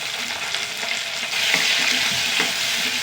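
Garlic cloves and curry leaves, along with dried red chillies, fry in hot oil while being stirred, a dense close sizzle that grows a little louder midway and carries faint scraping of the stirring.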